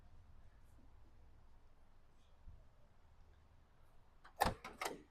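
A car door slammed shut on a used-car dealership lot, a single loud bang near the end followed by a short rattling echo, after several seconds of quiet ambience.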